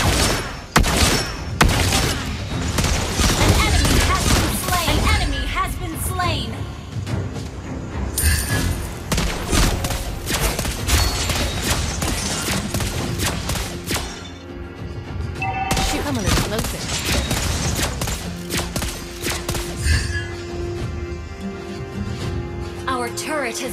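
Continuous mobile battle-arena action in Mobile Legends, with the sniper hero Lesley firing rapid repeated gunshots amid dense clashing effects, impacts and background music, with game voice lines heard.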